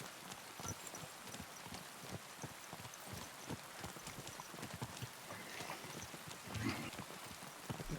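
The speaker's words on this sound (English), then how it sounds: "It's raining." Steady rainfall in Kingdom Come: Deliverance 2, a soft continuous patter with a horse's hooves clip-clopping through it, quiet and even throughout.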